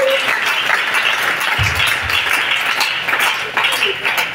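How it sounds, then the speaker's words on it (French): Church congregation applauding in a hall, steady dense clapping throughout with a faint voice underneath. "Tu acclames, tu acclames."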